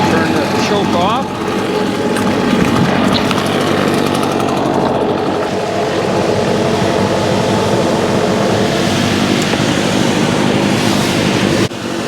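A 150B backpack leaf blower's small two-stroke engine roars loud and close, holding a dense, steady, unbroken drone for the whole stretch.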